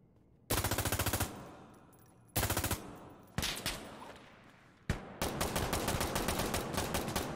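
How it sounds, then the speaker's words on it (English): Video game gunfire in the Insurgency mod ISMC: four sharp automatic bursts close and loud, separated by short pauses, the last one a longer sustained stream of rapid shots. "You're shooting us down."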